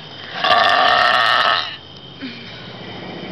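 A loud, drawn-out burp lasting over a second, close and raspy, followed by a short quieter grunt in an outdoor street setting.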